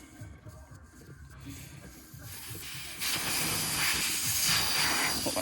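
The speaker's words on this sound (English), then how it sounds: "Just let that pressure out so it doesn't fight you as much." Air hissing out of a truck tyre valve during tyre fitting on a military lock ring wheel, a faint hiss at first that turns into a loud, steady rush, heard alone without talk.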